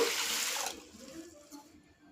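Horsegram and urad dal are swished and rinsed in water in a bowl, a brief close splashing rush that quickly fades into quieter trickling and faint drips.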